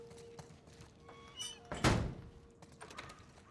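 A heavy door in The Last of Us Part 1 thuds shut with one sharp, loud slam midway, preceded by faint clicks and followed by quiet rustling, no voices.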